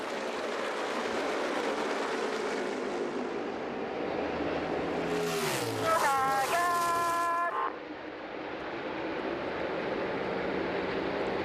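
NASCAR stock cars racing at Michigan International Speedway in the 2017 Pure Michigan 400, with a steady wall of engine roar and a car sweeping past close by with a falling Doppler whine.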